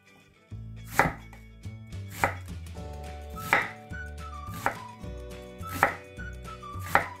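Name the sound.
chopping onion with knife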